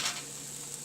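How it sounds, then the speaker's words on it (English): Tofu koftas sizzling and frying in oil in a pan, a soft steady crackle close by, short and uninterrupted, with no voices. "I have flipped over all the koftas and fry the other side too till it's golden brown"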